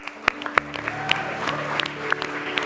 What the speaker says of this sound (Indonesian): kita berikan tepuk tangan dulu dong